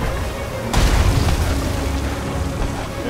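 A ship's cannon fires in Sea of Thieves aboard a brig during a raid, giving one loud, close boom that rolls into a long rumbling tail under the ongoing game noise.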